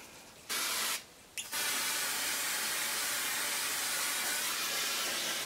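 Temporary hair colour spray hisses from an aerosol can in bursts: a short spray, a pause, another brief burst, then one long steady hiss close by.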